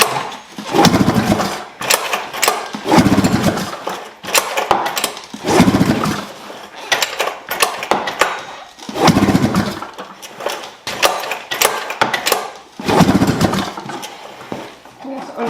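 An Arctic Cat M7 snowmobile engine revs in repeated loud bursts as throttle is applied, rising and falling roughly every two seconds close by, with a voice speaking between bursts.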